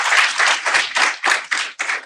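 A stand-up comedy audience claps in rhythmic bursts, about eight distinct group claps spaced roughly a quarter second apart, loud and close with brief gaps between them.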